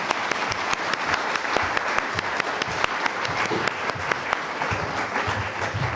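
Steady, dense audience clapping fills a university cultural event about Afghanistan, sustained evenly for several seconds with no voices over it.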